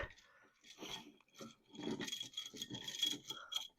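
Faint, close scraping and rubbing as a wire nut is twisted back onto joined electrical wires during a smart switch installation, a few short gritty turns with brief pauses.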